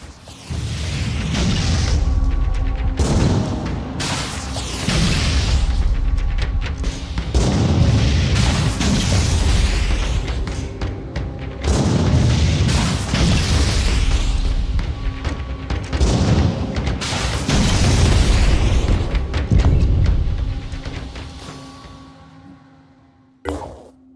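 Repeated heavy explosions as a ship is destroyed in the strategy game Phoenix Point, with deep booms and crackling blasts rolling in waves over about twenty seconds before fading out.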